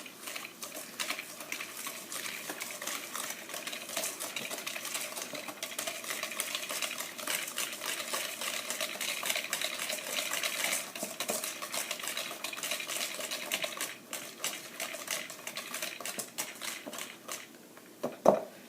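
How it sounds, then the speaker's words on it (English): Cookie dough ingredients, including salt and vanilla, being mixed in a bowl, a steady scraping and clinking of utensil against bowl running throughout at moderate level, with a sharper knock near the end. "we just mix"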